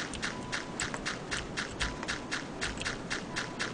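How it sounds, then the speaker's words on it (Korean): Footsteps in the horror video game Palcheok Gwisin 2 (팔척귀신2), a steady, evenly spaced series of soft thuds walking along at a moderate distance, with no talking over them. "자 여기서 발자국 소리가 들리니까 좀 떨어집시다"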